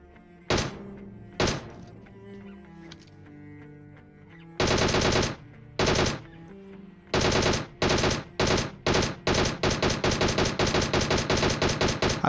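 Gunfire in a battle royale game: a few separate loud shots, then a string of heavy bursts that turns into rapid, evenly spaced automatic fire near the player.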